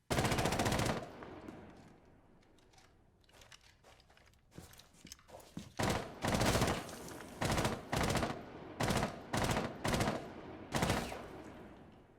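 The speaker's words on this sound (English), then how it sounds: "The issue is when he starts firing, though." Automatic gunfire in Rainbow Six Siege, several loud sustained bursts and shorter volleys separated by brief pauses, with a long opening burst and quieter scattered shots in between.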